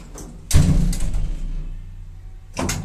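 A sticking elevator door slides closed with a loud, close thud, then rumbles briefly, and a second sharp knock follows about two seconds later.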